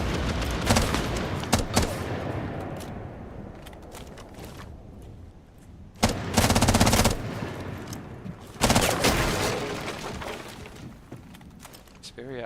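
Bursts of automatic gunfire from a Rainbow Six Siege tournament round crackle through a window, with heavy volleys near 6 and 9 seconds amid scattered shots and commentary talk throughout.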